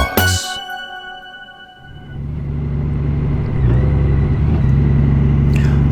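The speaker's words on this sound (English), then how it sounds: "out on my 21 Honda Goldwing" A 2021 Honda Goldwing DCT Tour motorcycle pulls away on an icy ride, a steady low engine rumble building after a sharp tonal beep at the start and holding close and loud.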